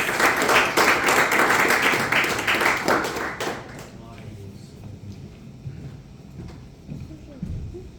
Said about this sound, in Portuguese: As palmas que louvam o Senhor Jesus